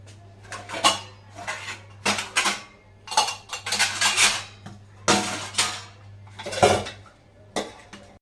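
Pots, pans and cutlery clink and clatter in irregular bursts as dishes are washed at home, close by, over a low steady hum.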